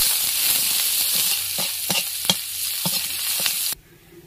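Two dried red chillies and chopped onion frying in hot oil in a kadai, a loud continuous hiss with a few stirring clicks, cutting off sharply near the end.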